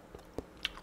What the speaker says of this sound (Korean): 고기국수 먹어보도록 하겠습니다